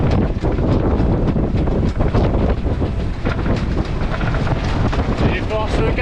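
Force 4-5 wind buffets the microphone at sea over a constant roar of choppy, crashing whitecapped water, loud and unbroken throughout.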